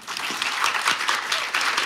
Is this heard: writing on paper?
no